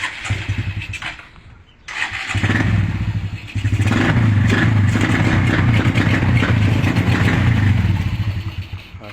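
A motorcycle engine fires up after a brief sputter, then revs and idles loudly up close with a deep throbbing rumble and some mechanical clatter, running continuously to the end.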